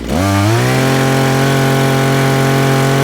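Dnipro-M petrol string trimmer engine held at full throttle during a service check, climbing quickly to a loud, sustained high-pitched whine that stays steady and close with no talk.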